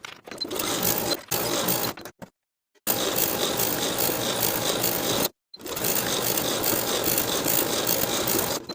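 A sewing machine stitches a crotch curve seam on a sleep-set garment with a 1/2 inch seam allowance, running in rapid mechanical bursts with short starts and stops, then two longer steady runs separated by brief pauses.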